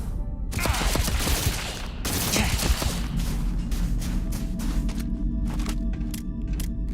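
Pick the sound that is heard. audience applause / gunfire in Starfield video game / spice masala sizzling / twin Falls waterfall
gunfire in Starfield video game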